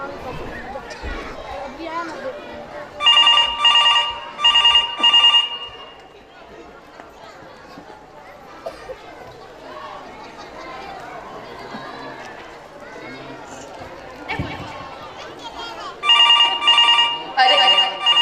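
At an annual day stage performance, a telephone rings unanswered in two short bursts of repeated trills, sounding again near the end, while actors talk and a crowd murmurs underneath.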